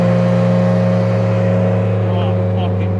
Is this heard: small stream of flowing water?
no